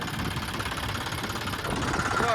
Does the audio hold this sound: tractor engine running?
yes